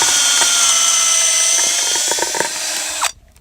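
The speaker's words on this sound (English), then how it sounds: "I'm going to come grab my trusty drill here." A handheld power drill bores a soil core sample into frozen ground, a loud, steady high-pitched whine with slight strain that cuts off abruptly near the end.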